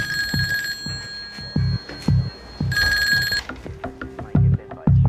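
A telephone rings in another room in two long bright bursts, mixed with irregular thumps and knocks nearby, fairly loud.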